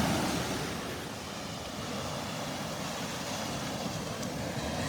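Ocean surf rolls steadily onto a small stretch of beach at Delnor-Wiggins, a broad, even wash of breaking waves with faint wind, heard alone without voices.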